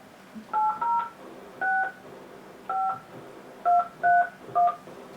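Telephone keypad dialing tones: seven clear, evenly pitched beeps in uneven groups, close and distinct over a quiet background with no talking.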